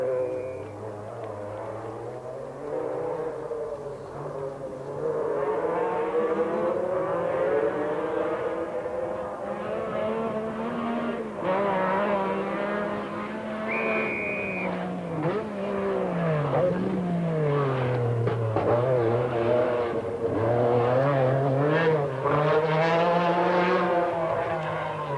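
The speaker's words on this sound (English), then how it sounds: "The battle by Henry Toivonen to bring the Lancia back up into second place is fascinating." Rally cars on a stage of the 1985 Lombard RAC Rally, including a Lancia, with engines droning and revving up and down in pitch, loud and continuous, while a commentator talks over them.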